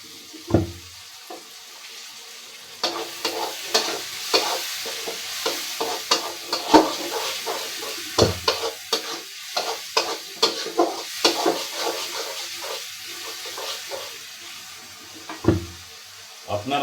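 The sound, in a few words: masala spices being fried and stirred in pan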